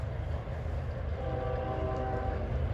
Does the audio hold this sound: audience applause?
no